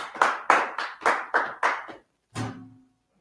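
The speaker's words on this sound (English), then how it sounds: "Clap it up." A group clapping together in unison at a brotherhood meeting: about six sharp, evenly spaced claps, then a short pause and one last clap that trails off.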